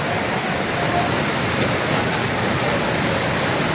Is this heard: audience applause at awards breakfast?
no